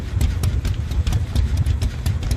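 A generator engine runs steadily in Dead by Daylight, a low rumbling idle with a rhythmic chugging pulse that stays loud and continuous throughout.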